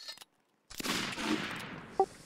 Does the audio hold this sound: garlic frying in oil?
no